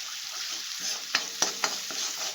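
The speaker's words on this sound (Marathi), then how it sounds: "आता मिक्स करून घ्या मसाल्यात" Crab is stirred into masala in a pan over a steady sizzle, with three or four close spoon scrapes and knocks against the pan.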